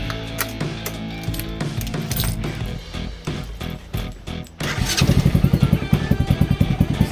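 A Boom Vader Grom clone motorcycle engine cold-starts and settles into a loud, rapid idle, after several seconds of clattering and cranking up close.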